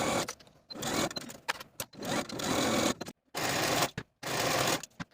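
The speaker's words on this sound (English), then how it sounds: "Sew your shoulder seams with a 1/2 inch seam allowance and finish your seams." A sewing machine stitches the shoulder seams of a top at a half-inch seam allowance, running in several close, steady bursts separated by short pauses.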